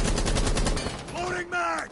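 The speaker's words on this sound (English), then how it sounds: "That's me shooting you, dumbass." Rapid gunfire from a multiplayer shooter video game, a dense burst of shots filling the first second, then tonal game effects and a brief voice-like sound.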